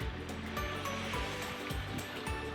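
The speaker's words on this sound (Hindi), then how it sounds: "पानी की आवाज़ भी आप सुन सकेंगे।" River water rushing near Dhani Waterfall in Kashmir, a steady broad roar of flowing water that fills the whole clip, with low rumbling underneath and no speech.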